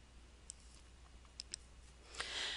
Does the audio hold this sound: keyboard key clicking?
yes